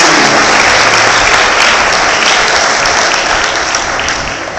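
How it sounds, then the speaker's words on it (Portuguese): Loud, dense applause from a church congregation praising the Lord, a steady unbroken wash of many hands clapping close by that tapers slightly toward the end. "Aplauda o Senhor aí"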